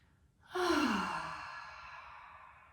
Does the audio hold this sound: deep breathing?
yes